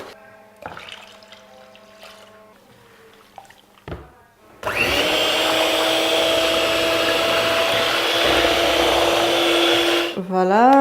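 An electric mixer churns a batch of shea butter face and body lotion, a loud steady whirring drone running for several seconds after quieter clinks and handling sounds, then winding down at the end.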